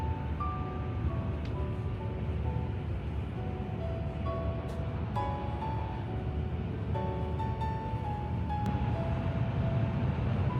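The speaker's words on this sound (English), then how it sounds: "the train really starts to open up, and we're cruising at over 300 kilometers per hour" The constant low rumble and rushing hum of a Chinese high-speed train cruising at over 300 km/h between Beijing and Shanghai, heard from inside, with faint whines and clicks over the steady drone.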